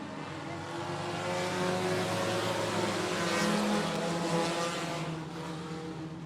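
A field of race cars pulls away at the start of a race at 105 Speedway, a dense roar of engines rising and holding steady, then easing slightly as the pack moves off.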